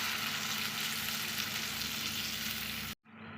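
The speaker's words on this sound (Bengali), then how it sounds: "এখন আমি দিয়ে দিচ্ছি পরিমাণ মতো জল" Spice masala for a brinjal curry sizzles in a hot pan as water goes in, a loud, dense, continuous hiss up close that cuts off abruptly near the end.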